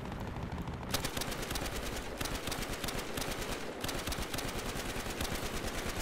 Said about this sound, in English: Shooting this gun in the middle of the street is not the best idea